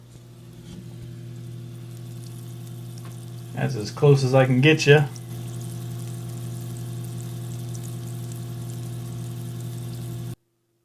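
A Hygger air stone in an aquarium bubbles while its air pump runs, making a steady, even drone with a low, constant hum throughout. Someone speaks briefly midway over the sound.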